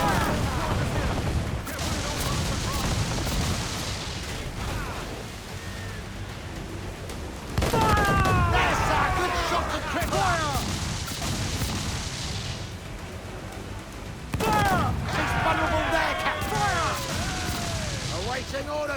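Naval cannon broadsides from a sailing warship in the Assassin's Creed IV Black Flag video game, heavy booming volleys in clustered bursts with crackling debris, amid crew shouts and game music.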